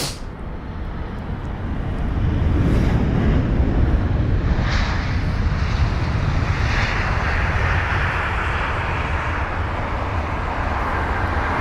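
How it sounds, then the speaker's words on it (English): A British Airways Airbus A320 arriving from Milan touches down on the runway at London Heathrow, a loud, sustained jet roar that swells and then holds as it rolls out. "We've got BA 573, which is an A320. It's almost on the runway now."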